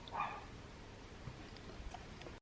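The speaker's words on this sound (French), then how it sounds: "Pourquoi mes chiens aboient?" Pet dogs in a home bark briefly and faintly at the start, a quick muffled burst of yips in a quiet indoor room, then low background noise.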